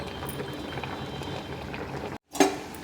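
Gongura curry simmers in a covered pot, making a soft, continuous bubbling hiss, cut by a short gap and then a sharp metallic clink near the end.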